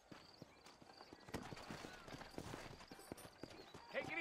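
Horses in the Red Dead Redemption video game, set in a New Austin town: steady clip-clop of hooves with a neigh or whinny, moderately close amid a quiet game soundscape.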